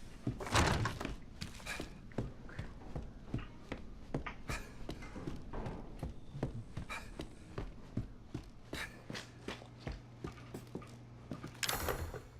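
A kitchen drawer being opened in the Resident Evil 7 video game, heard as a series of dull wooden thunks, knocks and clatters repeating throughout, with a louder rattle near the end.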